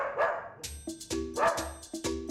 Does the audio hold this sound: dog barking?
yes